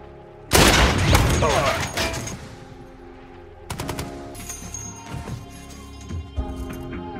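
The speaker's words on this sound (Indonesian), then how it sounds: "meski berada di luar tank, Don masih bertahan sambil terus meraungkan senapan kaliber besar ke arah musuh." Heavy-calibre machine gun firing in a World War II tank battle scene from the war film Fury: a loud sustained burst, then a quieter pause and further shorter bursts with scattered impacts, over a dense battlefield rumble.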